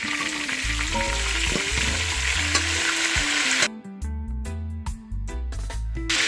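Stewed turkey neck pieces hit a hot pot for a Jamaican stew, giving a loud, steady sizzle and frying crackle, with brief clatter as the meat is stirred and settling to a broken hiss near the end.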